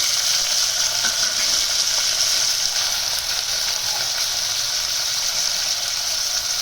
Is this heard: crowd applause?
no